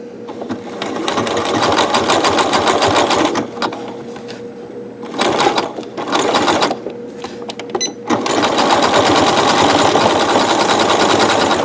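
An industrial sewing machine stitches industrial diamond braided rope into a two-colour bowl. It runs in long, loud, steady whirring bursts that break off for short pauses between them and then start again.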